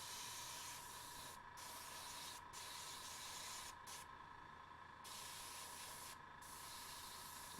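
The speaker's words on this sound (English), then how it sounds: "So I decided to just spray these bad boys" Aerosol spray paint hissing onto Alpha Legion miniatures in steady, close bursts, the hiss holding for long stretches with a few brief pauses between passes, and no talking.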